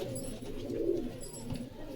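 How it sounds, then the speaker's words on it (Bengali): A loft full of pigeons for sale, including foreign Kalshira and Giribaz birds, fills the air with a steady, low, overlapping cooing chorus close at hand. "সেলের জন্য পায়রা অনেকগুলো আছে"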